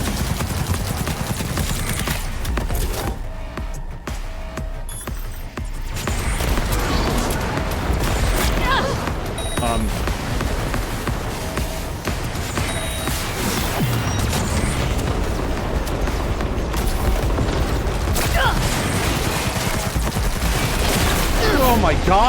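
A sustained, loud wash of booms, blasts and mechanical rumble fits rockets firing and exploding in a Cyberpunk 2077 battle. Speech is mixed in under the dense noise.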